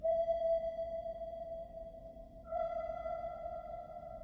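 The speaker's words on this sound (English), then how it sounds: "The sound echoed through the dome. Sonar, Marco hissed." Submarine sonar ping sound effect in an audiobook, a clear sustained electronic tone that rings and fades, then a second, brighter ping follows about two seconds later over a low rumbling background, with no speech.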